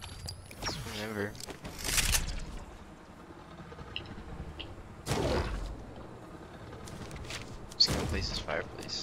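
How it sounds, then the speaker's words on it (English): Gunfire in the Fortnite video game rings out in a few sharp, loud bursts scattered across the stretch, separated by quieter gaps of footsteps and game noise. "I just hear gunshots and I look down"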